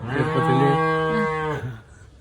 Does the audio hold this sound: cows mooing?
yes